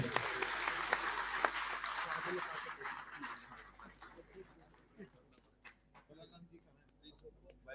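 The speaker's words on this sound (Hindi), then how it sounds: "इस मौके पे आपकी तालियां यकीनन शामिल होनी चाहिए।" An audience at a Gandhi Jayanti ceremony in Srinagar applauds, loud clapping at first that thins out and fades into scattered claps, faint murmurs and voices.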